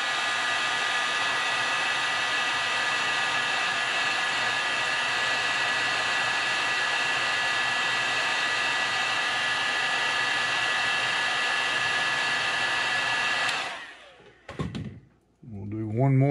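A heat gun blows a steady, loud roar while heat-setting paint on a custom-painted crankbait lure. It runs unbroken for about thirteen seconds, then cuts off, leaving brief handling knocks.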